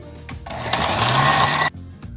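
A blender mixing a meal replacement shake smoothie whirs loudly for about a second, a steady high-pitched motor roar that starts abruptly and cuts off, with brief clatter before and after.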